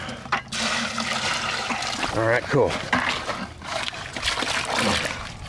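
Water pouring into a concrete-type mix for a kiln lid built in a tire rim, trickling and splashing near the mic with a voice talking over it.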